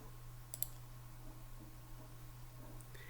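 A computer mouse clicking in a quiet room, one or two faint, sharp clicks over a low steady hum, no talking.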